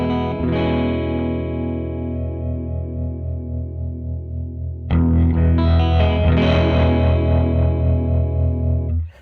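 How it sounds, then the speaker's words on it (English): A Catalinbread Tremolo8 pedal in smooth sine-wave tremolo mode pulses an electric guitar's sustained chords in a steady, even throb, with a fresh, louder strum about halfway through that keeps swelling and fading at the same rate until it cuts off. "That good old tremolo sound."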